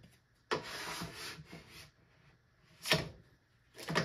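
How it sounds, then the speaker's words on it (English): A big, freshly sharpened scraper pulls wax off a snowboard base in a final pass, giving a long rasping scrape followed by two shorter, sharper strokes close to the microphone. "I just go one final pass, big scraper."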